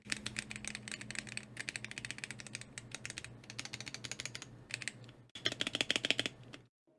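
Rapid, close clatter of typing on a Womier K66 mechanical keyboard, dense bursts of keystrokes broken by short pauses, ending with a quick flurry before falling silent.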